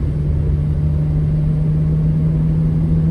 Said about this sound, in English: Dude, that's how a car needs to sound.